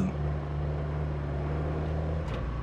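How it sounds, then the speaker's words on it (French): Electric vehicle motor in the Roadcraft video game, a steady low hum with a faint whine that holds evenly throughout, then drops away briefly near the end. "Ah, ça va, on entend quand même un peu le moteur."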